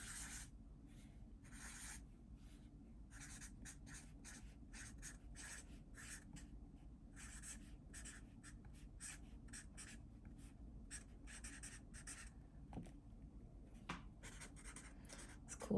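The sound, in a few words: writing lines with a chisel tip pen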